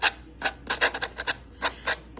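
Rhythmic scraping strokes of a sanding block on wooden discs, about eight short rasping passes in an uneven back-and-forth rhythm, close and moderately loud.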